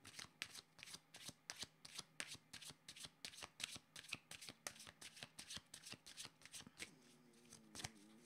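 Playing cards being shuffled for a card reading: a long run of quick, rhythmic riffling flutters, close and fairly soft, with a brief faint voice near the end.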